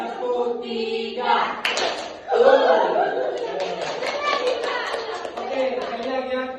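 Children in a classroom clap their hands in a counting game, short bursts of claps mixed with laughter and an adult's voice calling out the counts.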